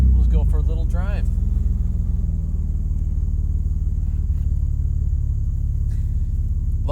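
Jeep Wrangler TJ with a manual transmission driving with the doors off, a steady low engine and road rumble throughout, with brief talk over it near the start and end.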